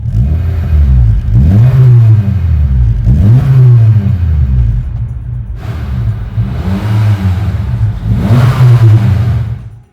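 A Honda City hatchback fitted with an HKS exhaust revs hard in repeated loud surges, each rising and falling with a deep bassy drone, close by and alone.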